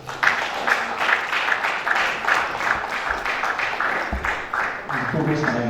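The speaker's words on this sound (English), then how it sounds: "A round of applause for him." Audience applause fills a workshop hall, a steady sustained wash of many hands clapping together at moderate loudness, carrying on for several seconds without a break.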